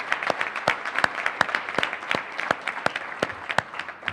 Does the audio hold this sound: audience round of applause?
yes